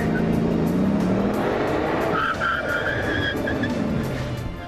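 A Bugatti Veyron brakes hard from high speed with its tires squealing, a loud, close roar of engine and road noise giving way to a sustained high-pitched squeal through the second half.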